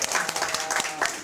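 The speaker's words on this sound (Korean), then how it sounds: "박수!" Sixth-grade pupils clapping in a classroom at the start of a lesson, a short round of quick, uneven claps with a voice faintly underneath.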